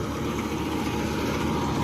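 Massey Ferguson 9500 58 HP tractor engine idling, a steady close low rumble with even pulsing and no speech.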